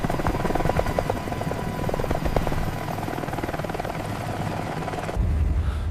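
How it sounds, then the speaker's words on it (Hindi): An army helicopter flies overhead, its rotor thudding loud and steady with a rapid beating chop; the sound cuts off abruptly near the end. "ये आर्मी वालों का हेलीकॉप्टर है"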